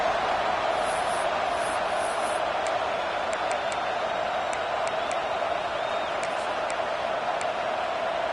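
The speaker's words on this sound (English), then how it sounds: "This crowd is trying to inspire this defense to make a big red zone stop" A football stadium crowd at a Texas versus Arizona State game roars continuously to rally the defense for a red zone stop, a loud, dense wash of noise with brief whistles and shouts rising through it.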